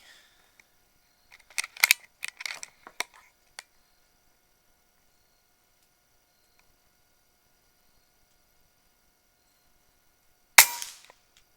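Quiet clicks and mechanical handling sounds of an Air Venturi Avenger .22 air rifle, then a single sharp, close shot of a hollow point pellet near the end.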